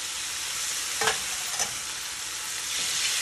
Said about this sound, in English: We're gonna add some veal stock to that.